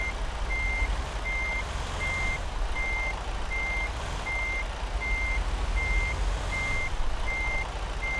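A truck backing a trailer in the American Truck Simulator game, its reversing alarm sounding a regular series of about a dozen evenly spaced beeps over a constant low engine rumble.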